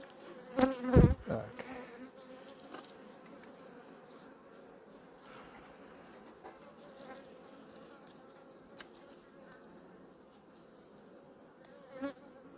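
Honey bees buzz steadily around an opened beehive, a low continuous hum with loud close bursts near the start and soft handling knocks.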